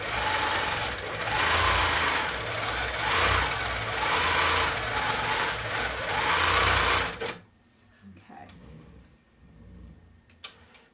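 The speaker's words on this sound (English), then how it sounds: "Bring up my bobbin, do some stitches." A longarm quilting machine runs test stitches, a loud continuous mechanical whirring hum with a rapid stitching pulse for about seven seconds, then stops abruptly into near silence with a few faint clicks.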